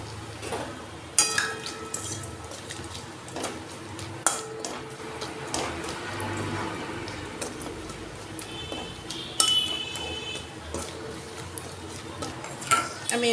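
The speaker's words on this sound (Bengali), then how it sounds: "ঘিয়ের মধ্যে তেজপাতা, গরম মশলা, তেজপাতা, গোলমরিচ, ছোটো এলাচ, একটু জয়িত্রী, দারচিনি, লবঙ্গ আর একটা বড় এলাচ ফোড়নে দেব" Whole bay leaves, black pepper, green and black cardamom, mace, cinnamon and cloves sizzle in hot ghee in a pan for paneer, with a soft steady crackle broken by clinks and scrapes of stirring against the pan.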